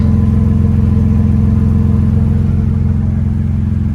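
A 2024 Ford Ranger pickup engine idles through an aftermarket Flowmaster 40 Series muffler with a deep, steady exhaust rumble, loud and close, with no voices.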